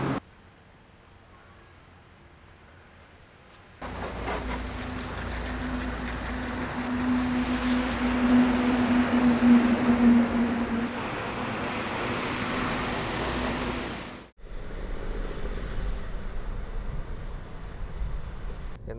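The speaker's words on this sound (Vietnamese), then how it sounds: "Trời mưa lắm các bạn ơi." Heavy rain heard from inside a taxi on Vietnam's National Highway 1A. A steady, loud hiss of downpour starts after a quiet opening, holds for about ten seconds, then drops away with a low cabin rumble.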